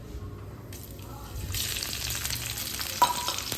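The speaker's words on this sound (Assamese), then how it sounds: "পিয়াজখিনি ৰঙচুৱা হোৱালৈকে ভাজি থাকিম" Sliced onions fry with nigella seeds in hot oil, a steady sizzle with stirring and scraping that grows busier partway through, with a brief sharp clink near the end.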